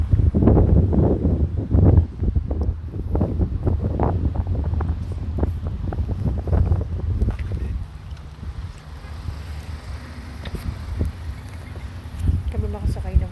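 Wind gusts buffet the microphone with low rumbling bursts by a riverside, strongest early on, then settle into a steadier outdoor roar.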